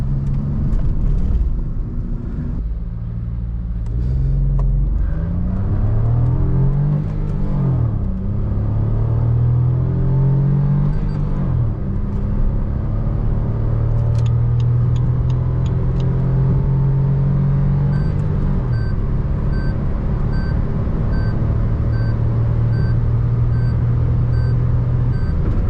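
A Suzuki Fronx Alpha manual accelerates hard at full throttle to overtake on a highway, its engine note climbing steadily through a gear and then holding a sustained drone over road rumble, with no voices.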